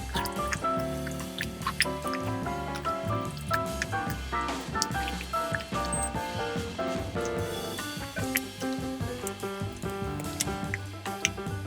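Canned coconut milk stirred into butter chicken in a pot, soft wet squelching and dripping with small clinks, steady and close, under a faint background of music.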